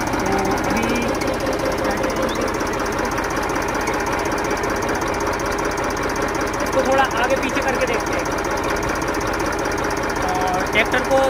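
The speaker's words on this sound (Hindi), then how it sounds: "अभी हम ट्रैक्टर को स्टार्ट ही रखेंगे, क्योंकि काफ़ी ज़्यादा टाइम के बाद इस ट्रैक्टर को स्टार्ट किया है।" A Massey Ferguson 1035 DI tractor, just started after a month unused, runs steadily nearby with a loud, rattling diesel clatter that stays even throughout, with no talking.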